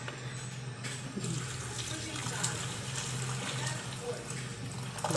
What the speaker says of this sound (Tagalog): Ang gagawin ng pobreng Iloy, lalagyan ko siya ng tubig.